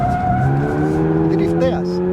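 Toyota GR86 sports car sliding sideways in a drift on a circuit, its engine holding a steady strained drone with a rising pitch and loud continuous tire noise throughout.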